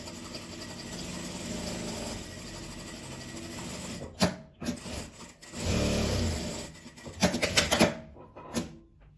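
A sewing machine stitches patchwork fabric scraps, a steady whirring hum broken by pauses and short bursts of stitching close up.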